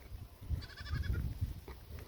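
Several goats bleat in short, wavering calls at close range over a low background rumble.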